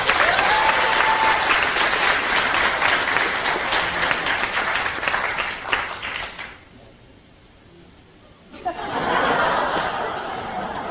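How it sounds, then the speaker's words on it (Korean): A crowd at a Democratic Party of Korea convention eve rally claps steadily with some laughter mixed in, dips to a brief lull, then the applause swells again. "우리 모두에게 박수 한번 부탁드립니다."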